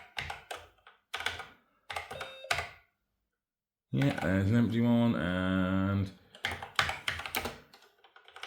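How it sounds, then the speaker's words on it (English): Bursts of typing on an Acorn Electron computer keyboard trade off with a person talking, followed by a sustained harmonic tone lasting a couple of seconds, then more clicking and speech. "I'm typing at a funny angle here."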